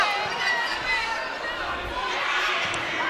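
A packed gym crowd murmurs and buzzes steadily through a volleyball match. A continuous wash of many voices carries a few dull thuds of play mixed in.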